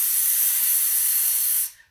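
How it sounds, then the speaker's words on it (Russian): A forceful, steady hissing exhale forced through the teeth with the tongue pressed against them, loud and close, lasting nearly two seconds before cutting off abruptly. "максимально создаем сопротивление для выхода воздуха из легких и выдыхаем"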